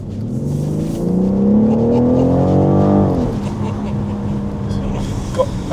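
A rare BMW, one of only 38 made, accelerates hard for about three seconds with its engine pitch climbing steadily, then the revs drop back to a lower steady drone as it cruises on.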